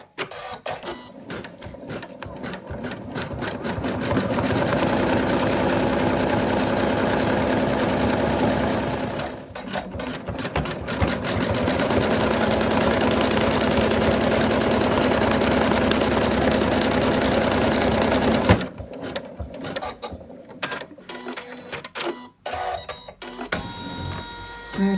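A home embroidery machine stitches a tack-down line to secure fabric for an in-the-hoop Santa doll, a loud, steady mechanical whirring and rapid needle clatter running in long stretches with brief pauses, then stopping.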